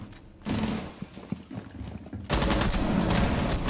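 Hip-fired gun bursts in a tactical shooter defuse round come in two rapid, loud sprays, a short one early and a longer sustained stretch at the end, with scattered clicks between.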